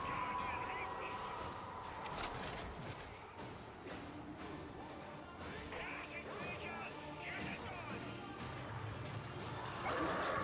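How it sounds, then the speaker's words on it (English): A dog barks in a foggy horror action video game, heard as short yips and barks in the mix over dense game noise, crashes and thuds, with a player talking over it. "I hear Doggy."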